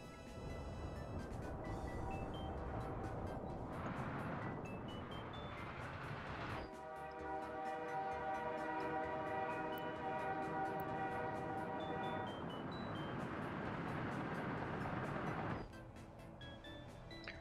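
Export trains in the Workers and Resources video game rumble along steadily with mechanical clatter, a tonal horn-like drone swelling in the middle and easing off near the end, with no talking.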